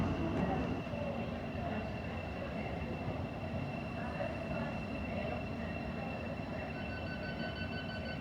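A Gatwick Airport-bound Thameslink Class 700 train passes near Farringdon station as a steady, loud rail rumble with a sustained high whine and screechy wheel tones, heard from aboard a London Underground train.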